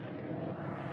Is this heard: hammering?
no